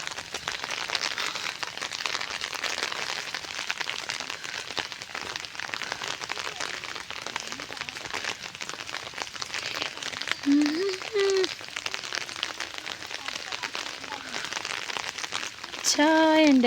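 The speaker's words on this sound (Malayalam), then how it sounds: "മഴ പെയ്യുന്നുണ്ടോ?" Rain falls on tea leaves in the Valparai hills: a soft, steady patter throughout, joined near the end by a few brief, high tonal sounds.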